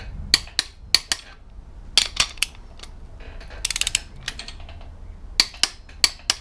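A torque wrench works on bolts during a Chevy 383 stroker V8 engine assembly, giving sharp metallic clicks in small irregular clusters, close and distinct against a quiet workshop background.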